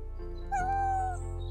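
A cat gives a single clear, drawn-out meow close by, rising then sliding down, over a constant low electrical hum, with no one talking.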